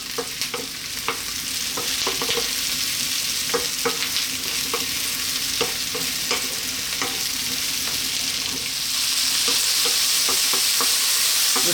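Sliced fresh mushrooms fry in a hot pan with a steady, bright sizzle, broken by soft clicks and scrapes of stirring throughout.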